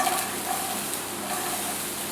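Chopped onions frying in oil in a non-stick frying pan, a steady soft sizzle and crackle running evenly throughout at close range with no voices.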